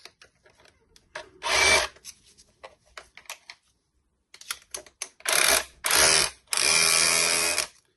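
A DeWalt breaker hammer drill running in hammer mode whirs in several bursts, a short one early and three longer ones near the end, with scattered clicks and handling taps in between.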